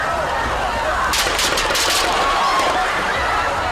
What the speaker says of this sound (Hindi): पेंसिल्वेनिया की रैली में मंच पर भाषण दे रहे ट्रंप पर गोलियां दागी गईं